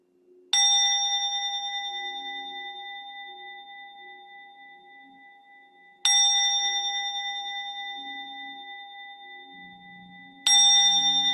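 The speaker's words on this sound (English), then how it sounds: "So I'm going to ring a bell" A meditation bell is struck three times, each strike a clear metallic ding followed by a long, slowly fading ring, with a faint low murmur underneath.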